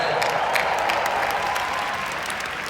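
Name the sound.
audience applause for Michael Jordan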